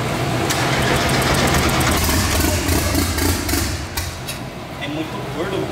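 Turbocharged Chevrolet Corsa engine running rough and rich with the throttle held open, a loud close uneven rumble throughout, with people talking over it.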